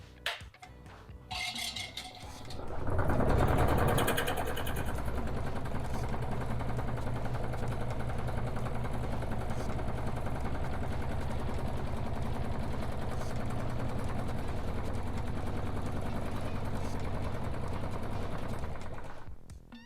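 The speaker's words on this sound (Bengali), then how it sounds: "কালির হাওয়াটা বের করতে হবে, ওটার জন্য এই সেন্ট্রিফিউজ মেশিনটা আছে।" An electric centrifuge machine in a pen factory spins bundled ballpoint pens to drive air out of the ink, starting with a loud rattling surge and settling into a steady, close mechanical whir.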